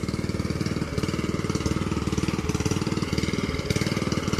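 An engine-driven water pump drains a flooded pond to catch fish, running with a steady, rapid throbbing pulse throughout, loud and close, with faint voices in the background.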